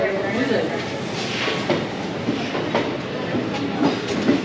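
A passenger train with general unreserved coaches, running toward Barakar station near Kolkata, rolls along with a steady rumble and rhythmic wheel clatter heard from inside the carriage, a voice talking over it.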